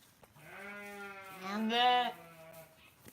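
A single sheep bleats up close, a wavering, drawn-out call that swells louder in the middle before trailing off.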